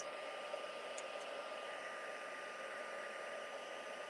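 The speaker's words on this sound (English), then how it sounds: "with my heat tool, just get it warmed up" A heat tool blows a steady, even whooshing stream of hot air while warming clear embossing powder on white card, continuous and unchanging at a low level, with no talking.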